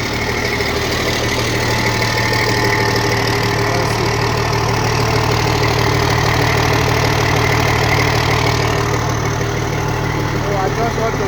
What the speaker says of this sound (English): We are running the engine now.